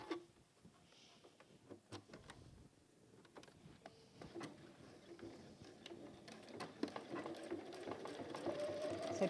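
Sewing machine top stitching around a folded velvet pouch, running in short uneven bursts that grow steadier and louder toward the end, with faint handling noises between runs.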